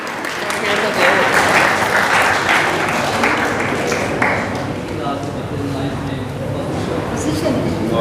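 An audience at a student awards ceremony claps steadily and loudly throughout, with a voice speaking over the applause.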